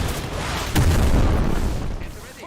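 An explosion in Crysis Remastered, a PC shooter, booms in with a sudden low burst and then a rolling, debris-filled rumble that gradually fades away.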